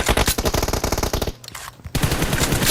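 Rapid automatic gunfire from the mobile battle royale game PUBG Mobile, loud and close, breaking off briefly in a short lull before another sustained burst resumes.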